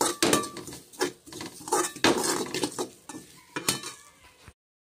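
Grated coconut roasting in a pan for a village sweet recipe, stirred with a metal spoon: steady scraping and clinking of utensil against the pan in uneven strokes, close and moderately loud, with no talk.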